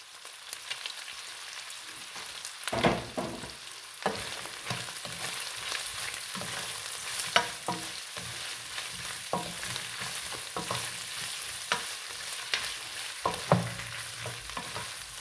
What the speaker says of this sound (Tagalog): Yan, piprito pa natin ng konti.